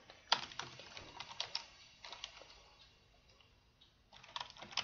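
Computer keyboard typing comes in quick bursts of clicky keystrokes separated by brief pauses, close but quiet, with no voices.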